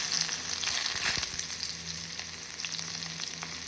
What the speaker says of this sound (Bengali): কড়াইয়ে সামান্য আরেকটু তেল দিয়ে তাতে তেজপাতা, শুকনো লঙ্কা ও জিরে ফোড়ন দিয়ে তাতে পেঁয়াজ কুচো দিয়ে দেব